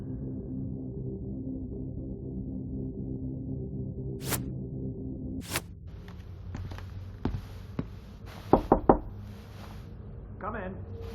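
A few sharp knocks on a door, spaced out and fairly close, follow a steady low hum, with a little movement around them.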